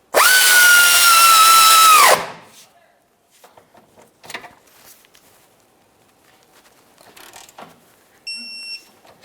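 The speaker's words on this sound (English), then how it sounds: "Now we can snug this up and then torque it to 89 foot-pounds." A power tool snugs a rear suspension mounting bolt on a 2000-2006 Chevrolet Tahoe, one loud steady two-second whir close by, followed by faint clinks and handling noises.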